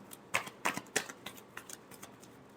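Tarot cards shuffled by hand in a final shuffle, a few sharp close slaps followed by softer, quicker taps that trail off, with no voices.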